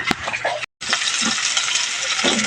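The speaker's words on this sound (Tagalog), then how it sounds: "Halo lang ng halo para hindi dumikit sa inyong mga kasirola" Spaghetti being stirred in a cooking pot at home, a continuous close scraping and sizzling hiss with a brief dropout partway through and no talk.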